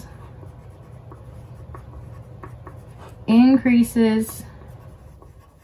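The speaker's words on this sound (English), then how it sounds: "I'm going to write reactivity" Marker or chalk writing on a board during a chemistry lesson on periodic table families, faint scratchy strokes under a room hum, with a teacher briefly speaking partway through.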